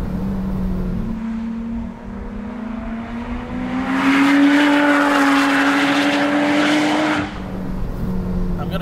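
Supercharged Lotus Elise Cup 250 lapping the Goodwood track, its engine note droning steadily and rising in pitch under acceleration, then falling back as it lifts for a braking area.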